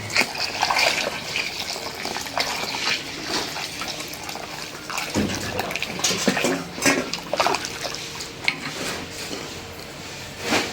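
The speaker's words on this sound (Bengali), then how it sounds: "এখন দিয়ে দিব এই যে উঠায় রাখা ডালের পানি।" Reserved lentil cooking water pours into a pot of spices in a home kitchen, a steady close gush of liquid with a few light clinks of cookware, no talking.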